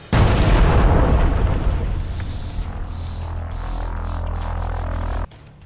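A loud blast from a remotely detonated bomb in a building in Khan Yunis bursts out and then rolls into a long rumbling, crackling roar that slowly fades before cutting off.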